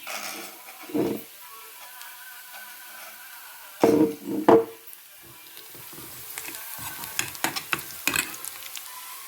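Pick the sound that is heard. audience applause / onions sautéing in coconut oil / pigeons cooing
onions sautéing in coconut oil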